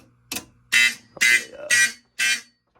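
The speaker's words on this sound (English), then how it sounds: "the piezos on these things are extremely loud" A loud, harsh piezo buzzer on a Simplex 2001 fire alarm panel sounds in five short pulses, the last four evenly spaced, close and alone.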